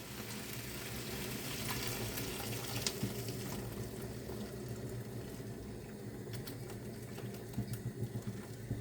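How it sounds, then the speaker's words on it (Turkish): Water pours steadily into a cooking pot on a home stove, a continuous faint splashing hiss lasting several seconds with a few small knocks. "Şimdi suyunu da dökelim"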